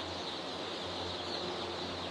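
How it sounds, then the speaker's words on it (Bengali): Many baby chicks filling an office chirp at once in a dense, continuous cheeping chorus, steady and fairly close, with no other sounds standing out. "দেখতে পাচ্ছেন আমাদের অফিস জুড়ে অসংখ্য মুরগির বাচ্চা"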